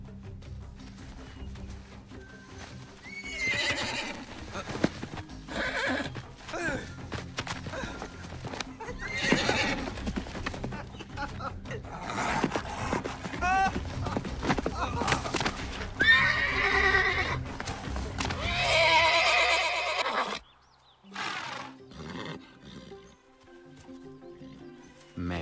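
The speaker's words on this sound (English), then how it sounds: "Great Mustang, today I will ride you." A Mustang in the Star Stable Online video game neighs and whinnies repeatedly over clip-clopping hooves and game music, loud and close, with a few short calls near the end.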